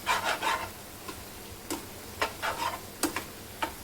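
Cheese and chopped coriander stirred into vegetable masala Maggi noodles in a pan, producing soft scraping and tapping strokes at an uneven rhythm, close and fairly quiet with a faint sizzle beneath.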